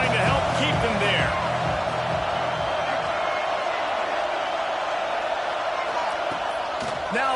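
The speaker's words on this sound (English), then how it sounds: "this crowd trying to help keep them there" Dense, steady roar of a packed football stadium crowd at Ohio State hosting FSU, loud and continuous throughout with swelling cheers; a commentator's voice runs underneath.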